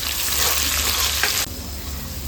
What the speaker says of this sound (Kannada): ಈ ರೀತಿಯಲ್ಲಿ ಫ್ರೈ ಆಗುವಾಗ ಕಟ್ ಮಾಡಿ ಇಟ್ಕೊಂಡ ಕ್ಯಾಪ್ಸಿಕಮ್ ಮತ್ತು ಈರುಳ್ಳಿಯನ್ನು ಸೇರಿಸ್ಕೊಳ್ತೀನಿ